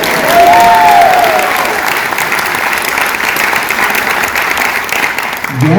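An audience breaks into loud, sustained applause, dense clapping that holds steady for several seconds before starting to thin at the end.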